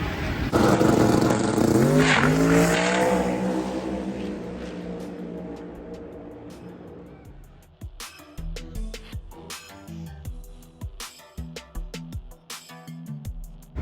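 A small block Chevrolet race car engine with 23-degree heads roars loudly at first, then fades into a distance. Rapid, sputtering bursts and pops follow at close range.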